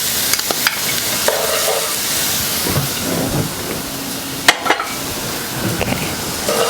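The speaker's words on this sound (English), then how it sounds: "Love to hear that sizzle." Garlic sizzles and crackles steadily in a hot frying pan, a close, continuous frying hiss with a few sharper pops and stirring scrapes.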